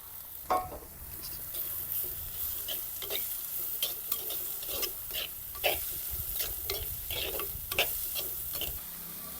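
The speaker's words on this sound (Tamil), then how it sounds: "கொஞ்சம் பச்சை வாசம் போகும் வரைக்கும் வறுக்கணும்" Onions sizzle steadily in a hot pan, with a constant crackling hiss and occasional sharper ticks as they are stirred.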